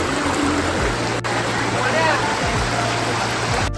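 Rushing water from the Ring waterfall and its stream near Khopoli during the monsoon makes a constant, full roar that fills the whole moment without a break.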